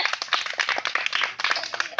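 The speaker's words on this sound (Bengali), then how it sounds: "একটা জোরে হাততালি" Loud, rapid hand clapping, a steady burst of sharp claps close by with no talking.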